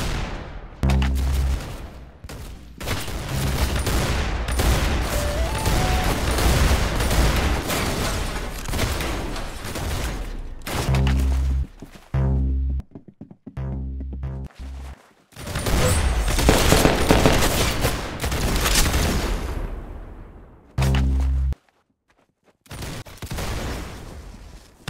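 Repeated gunfire in rapid volleys, with loud bursts of shots that stop briefly and then start again, close and dominant throughout.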